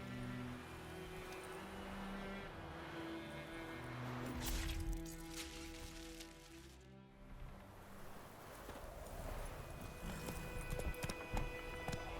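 Horse hooves clip-clopping in The Witcher 3, a steady rhythmic patter layered under game ambience and background sounds, moderately close and continuous.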